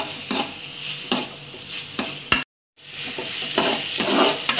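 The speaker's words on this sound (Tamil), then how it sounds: "அதனால் நல்லா கிளறி விடுங்க," Tomatoes sauté in a pan for radish sambar while being stirred, a constant sizzle punctuated by regular scraping strokes, with one brief dropout of silence midway.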